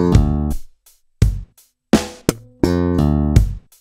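Slap bass guitar plays a short bar of slapped notes with muted slaps and a hammer-on, punchy percussive attacks separated by brief silences, close and clean with no talking.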